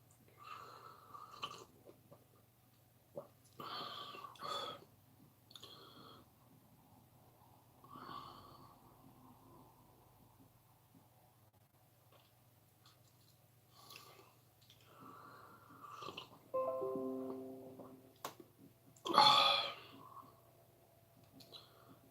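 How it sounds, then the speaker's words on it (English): Someone slurps hot chocolate in a quiet room, with scattered soft wet sips and breaths building to a louder, sharper slurp near the end. "Stop slurping. The hot chocolate's too hot."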